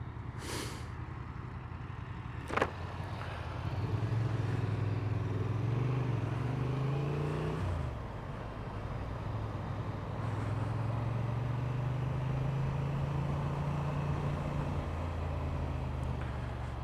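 A car driving out of Coventry on the road, its steady engine drone and road noise continuous and fairly loud, rising in tone as it gathers speed, with a brief sharp knock early on.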